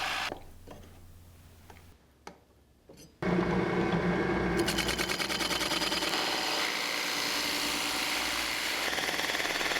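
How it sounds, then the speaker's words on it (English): A large 3 1/8 inch Forstner bit bores recess holes in a clamped wooden workpiece. After a few quiet clicks, a loud, steady grinding whir starts and keeps running close to the microphone. "This is a massive 3 1/8 inch Forstner bit"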